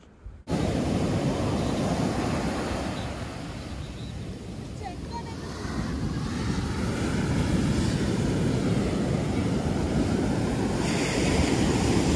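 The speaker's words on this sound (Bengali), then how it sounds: "সমুদ্রের গর্জনের কিছুটা আওয়াজ তোমাদের সঙ্গে শেয়ার করলাম, কীরকমভাবে গর্জন করছে।" Roaring sea waves crash on Alleppey beach with a steady loud surf rush and wind buffeting the microphone, the swell rising again toward the end.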